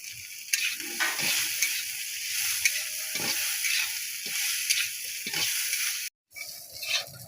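Taro stolons frying in a pan of oil, a steady close sizzle and crackle running throughout, with a brief drop to near silence before the frying hiss returns near the end.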